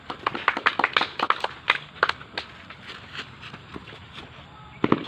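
A small group in a school athletics long-jump lesson gives scattered, uneven claps: a quick cluster, a few more, then a final pair, each sharp and fairly near but quiet overall.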